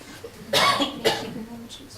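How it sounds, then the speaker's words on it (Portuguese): Two sharp coughs from one person close by during a church sermon, the second shorter, with quiet room noise around them. "Meu Deus, onde veio essa tosse?"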